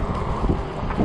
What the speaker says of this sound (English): the ecotric is fighting the wind